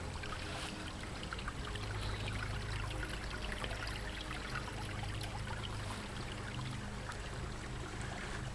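A small summertime creek runs in a steady, even babble of trickling water, continuous and close, with no voices present.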